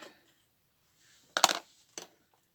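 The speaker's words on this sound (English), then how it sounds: "and one more paper clip." A metal paper clip handled during card crafting gives a short rattling clink, then a brief pause and one lighter tap, close and alone in a quiet room.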